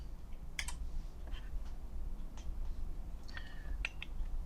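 Scattered keystrokes click on a computer keyboard in short bursts with pauses between them, quiet and close in a hushed room.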